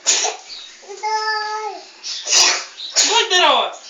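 A child sneezes several times in a home setting, with sharp bursts at irregular intervals mixed with a child's babbling and adult voices speaking nearby.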